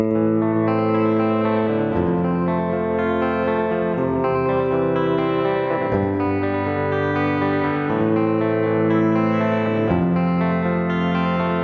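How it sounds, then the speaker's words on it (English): A sustained, distorted electric guitar through a Boss DD-7 delay pedal with high feedback, drenched in repeating echoes that layer and swell continuously, with no pauses. "Now if I bring up the delay time, a little bit more feedback."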